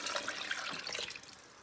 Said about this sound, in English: Now the next step is to add the liquid components. So this is 6 cups of broth.